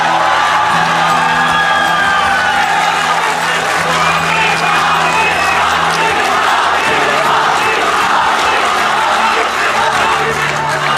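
Audience at an Urdu poetry recital applauding and cheering loudly, with continuous clapping, whoops and crowd shouting over a steady low drone, sustained and close.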